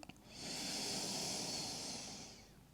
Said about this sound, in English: Take another deep breath into the belly.